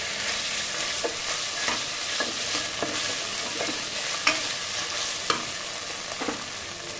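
Ginger garlic paste frying with golden brown onions in a pan, a steady close sizzle broken by sharp stirring scrapes and clicks every second or so, with no voices.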